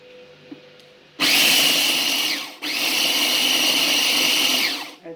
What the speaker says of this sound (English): I'm just going to blitz those next. Start off in the chop setting. Seriously noisy